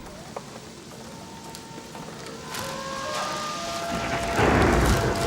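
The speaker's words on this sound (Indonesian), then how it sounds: "Hujan lagi." Rain falls steadily at night as a broad, dense hiss that swells louder toward the end, with no voices.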